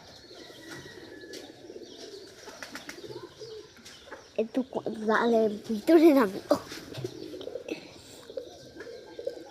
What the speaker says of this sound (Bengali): তরকারি মাখা ভাত এই কবুতরগুলো অনেক পছন্দ করে